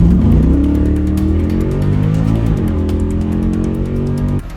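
Fox Body Ford Mustang revving hard at a drag race launch, loud engine roar held near the rev limiter with rising and falling harmonics, close and continuous, no talking.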